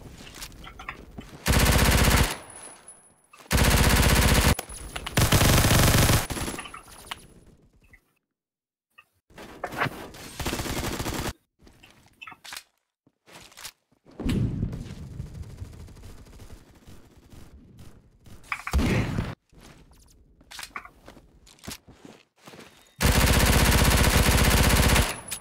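Video game gunfire in a competitive match: repeated loud bursts of automatic fire separated by short silent gaps, several long sprays and a few single shots, close and sharp, no talk.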